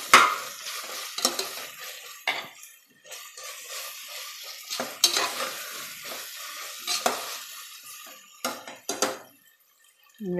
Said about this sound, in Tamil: ரெண்டு நிமிஷம் வதங்கட்டும்.